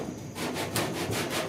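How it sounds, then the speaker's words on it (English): Block sanding body filler on the dash of a 1966 Ford F100 truck, a short burst of close, steady abrasive rubbing strokes. "it's just the perfect time to be sanding on it. And it sands beautiful when it's in this state right here."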